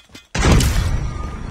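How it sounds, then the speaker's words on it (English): Grenade explosion in COD Mobile during a ranked Search & Destroy match: a single sudden loud blast after a short quiet moment, with a broad roar that slowly fades. "Grenade!"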